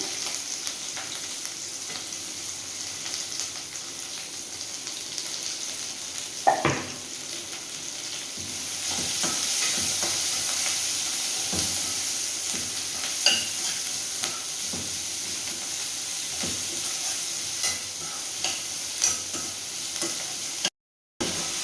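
Large onions fry steadily in a pan with a continuous hiss, broken by an occasional clank of a utensil and a few light scraping stirs; no voices.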